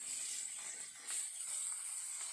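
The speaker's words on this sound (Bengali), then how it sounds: "মাছ ভাজা হচ্ছে" Fish fries in a pan with a continuous high, thin sizzle. It swells and dips slightly, with faint crackles and a low, soft background.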